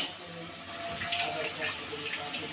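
Cauliflower being rinsed under running water in a kitchen while making pav bhaji, a soft, steady splash and trickle that stays fairly quiet after a brief louder start.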